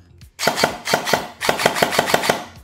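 G&G ARP9 airsoft gun firing without its jailbow, a quick run of sharp mechanical clacks in two bursts, close and loud with a hollow thumping rhythm.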